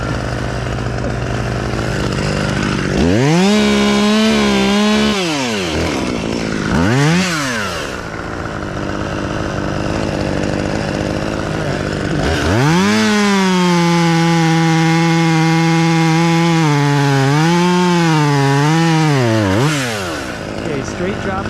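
A chainsaw makes a break cut in a tree, loud and close. The engine rises and falls in long revving bursts, with a short blip between them and a brief idle dip before the final sustained high-revving cut.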